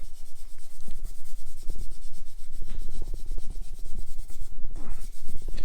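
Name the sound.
cleaning with a gray Scotch-Brite pad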